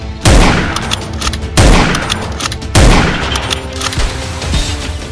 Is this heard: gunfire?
yes